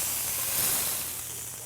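Beef tenderloin searing and browning in a hot pan gives a steady, close sizzling hiss with no talk over it.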